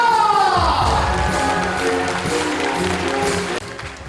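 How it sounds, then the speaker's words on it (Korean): Crowd applause and cheering fill a political constituency report event in Incheon as a speaker is welcomed, a loud, dense wash of clapping and shouts that runs steadily before easing slightly near the end. "여러분 뜨거운 박수와 함성을 부탁드립니다"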